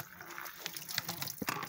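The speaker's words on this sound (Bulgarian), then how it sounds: "Ето сега, взимам и ще си сипя вода." Water poured into a bottle beside one of the Seven Rila Lakes, a faint, brief trickle and gurgle of liquid with small splashy bursts.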